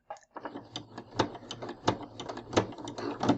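A sewing machine stitches a ruffle into jersey knit fabric at a slow speed, giving a rhythmic mechanical clatter of repeated needle strokes with a steady, evenly spaced ticking pulse.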